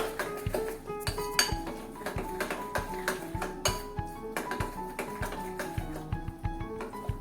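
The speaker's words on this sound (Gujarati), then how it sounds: "બેટરને એકદમ આપણે ફેંટી લઈએ" Khaman batter being whisked briskly in a bowl, a steady run of rhythmic metallic clinks and taps, close and fairly quiet, repeating about twice per second with no talking.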